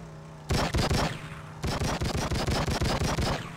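Rapid pistol gunfire in True Crime: Streets of LA, two loud bursts of sharp evenly spaced shots, a short run of about five, a brief pause, then a longer steady string of about a dozen.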